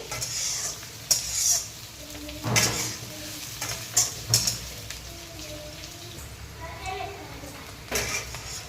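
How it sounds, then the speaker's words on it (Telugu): Onions frying in hot oil until brown for a Rayalaseema-style chicken fry, a steady close sizzle with intermittent stirring scrapes and clatters while a voice talks over it. "అంతా వేడెక్కిన తర్వాత ఆనియన్స్ వేసి బ్రౌన్ కలర్లో వచ్చేంత వరకు ఆనియన్స్ని ఫ్రై చేసుకోవాలి"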